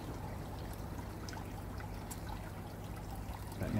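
Water trickling and dribbling steadily through the filter media of a Bakki shower koi pond filter, a continuous soft splashing stream that holds at an even level and swells slightly at the end.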